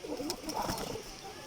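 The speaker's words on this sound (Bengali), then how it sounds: "এই কবুতরের বাচ্চাটা কার কার ভালো লাগে" A young pigeon gives a soft, brief coo, heard faintly and close against a low background hum.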